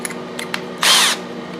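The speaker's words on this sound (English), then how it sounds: "we'll just put the screws in using the new screws, the 1024s." A power drill briefly whirs as it drives a new 10-24 screw into a cover plate, one short loud burst after a few faint clicks, with no talking.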